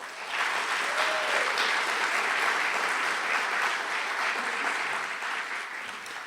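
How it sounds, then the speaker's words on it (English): An audience at an awards ceremony claps steadily for several seconds, a dense wash of applause that holds level and then begins to thin out toward the end. "give a big round of applause for Spiro Analytics."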